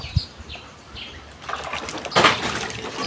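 Sweet potatoes fresh from a farm are washed by hand in water in an African village kitchen, with soft splashing and sloshing that swells into a louder churning burst near the end, close and without talk.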